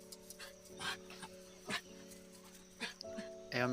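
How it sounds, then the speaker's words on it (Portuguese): A pet dog whimpers indoors with short, high whines and yips scattered through a steady tonal hum, close to the microphone and fairly soft, the last burst louder. "é o cachorro da minha mãe, gente, que tá fazendo barulhinho aqui."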